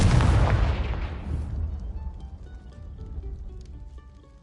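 A Confringo fire blast spell explodes in Hogwarts Legacy, a loud booming burst with a broad crackling roar that fades over a few seconds into low rumble and faint tinkling debris.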